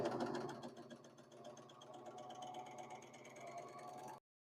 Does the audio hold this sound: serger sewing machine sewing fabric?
yes